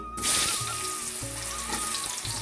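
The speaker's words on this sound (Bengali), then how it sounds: "মাছ ভাজার তেলেই আমি আলু দিয়ে দিচ্ছি" Potatoes tipped into hot oil left over from frying fish hiss with a steady, close sizzle that runs throughout, with low hum and background tones beneath but no talk.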